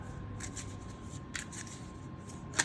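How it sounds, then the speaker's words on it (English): Tarot cards shuffled by hand, giving soft repeated riffling bursts against a quiet room hiss, with a sharper snap of a card near the end. "I'm going to take this card because I'm shuffling and it just came out."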